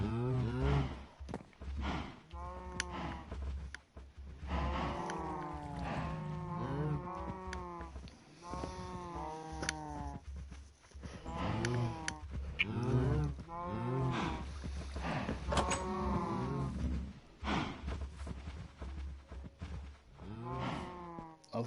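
Cows in the video game Minecraft moo repeatedly, several drawn-out, close moos overlapping one another, with a low steady hum beneath and quiet background noise between the calls.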